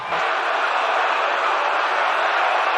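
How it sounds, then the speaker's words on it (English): A packed baseball stadium crowd at a Cubs game roars after a game-winning home run, a loud, dense, unbroken wall of cheering that holds steady for the whole few seconds with no single voice standing out. "Listen to this crowd."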